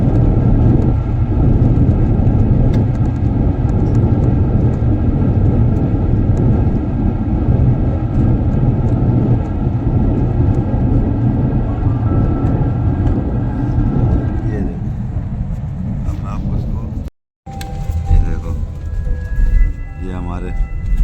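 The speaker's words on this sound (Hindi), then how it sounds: "देखो भाई, धीरे धीरे प्लेन स्लो हो रहा है" A passenger airplane landing at Delhi airport, heard from inside as a loud, steady engine and cabin roar that eases and shifts as the aircraft slows, with a brief dropout near the end and people talking over it.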